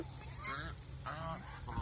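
Geese honking repeatedly, a few loud nasal calls in quick succession over a steady low hum, fairly close.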